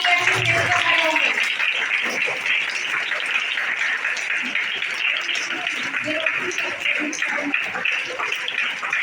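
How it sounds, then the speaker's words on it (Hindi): Audience clapping at a children's school assembly event, a continuous wash of applause with loud voices and some chatter mixed in across the whole stretch. "तालियां बजती रहिए, किसी दिन आप स्टेज पर खड़े होंगे।"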